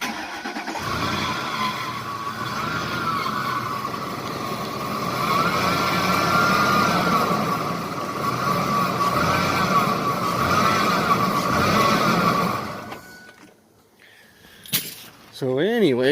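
A Ford power steering pump whines steadily beneath a running engine for about twelve seconds, loud and close, before dropping away into quieter handling noise at the end.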